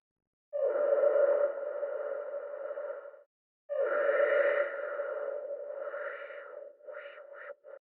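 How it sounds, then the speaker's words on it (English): A sustained synth tone played through an FL Studio sampler filter with strong resonance at the cutoff, two long held notes carrying a ringing, sonar-like resonant peak that wobbles and pulses near the end, no voices. "If I turn mod Y up, we should now get a strong resonance at our cutoff frequency."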